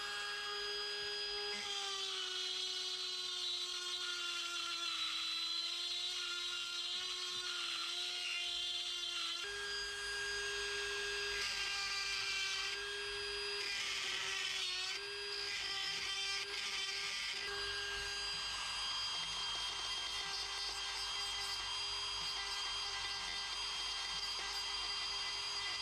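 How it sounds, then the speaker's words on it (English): A high-pitched grinder cuts steadily through a valve seat in a Lancia Delta Integrale cylinder head on a workbench, a continuous close whine with slight pitch shifts as the load changes. "I'm just going to grind through the seat until it cracks and tidy it up"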